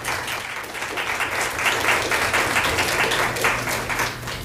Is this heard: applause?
yes